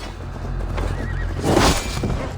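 A horse whinnies in the middle of a siege at night in the video game Assassin's Creed Valhalla, rising over a dense bed of battle ambience and hoof noise, loudest near the middle and fading back into the din.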